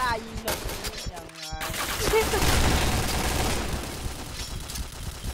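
Rapid gunfire from the video game Point Blank crackles through most of the stretch, dense and loud with overlapping shots, while a commentator talks excitedly over it.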